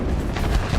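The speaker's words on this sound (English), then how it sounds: "that bomb missed" A bomb blast in the World of Warplanes flight game, a deep rumbling boom with low-end roar filling the short moment, loud and continuous with no voices.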